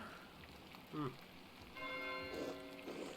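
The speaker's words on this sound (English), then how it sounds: "Why is Matteo ringing the bell?" A bell rung by a character at an abbey in the video game Pentiment, heard as a faint, steady ringing tone that swells midway through over a soft, noisy background.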